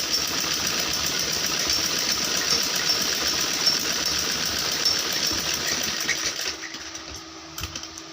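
A domestic sewing machine stitches over an existing seam on a kurti neckline, running as a steady, continuous whir for about six seconds before stopping, with a few faint clicks afterward.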